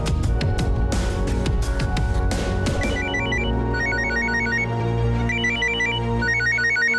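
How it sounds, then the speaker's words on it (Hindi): An outgoing phone call in a Hindi TV drama: a short burst of rustling and clicks, then a repeating electronic ringback tone in steady, evenly spaced pulses, clear and close with no talk. "एक बार राज को ट्राई करती हूँ।"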